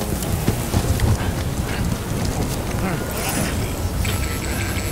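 Steady rain in the video game Death Stranding patters with a soft hiss and scattered drop ticks, continuous and fairly close throughout.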